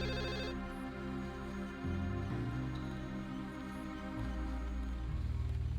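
A telephone rings within the video game Deus Ex, a steady electronic ringtone repeating across several seconds, alone with a musical game backdrop and no talk.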